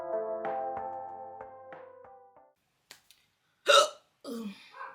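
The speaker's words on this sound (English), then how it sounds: "I have really bad hiccups right now." Sharp, abrupt hiccups break out one at a time after a stretch of soft background music, each a short loud voiced gulp close to the mic with pauses between.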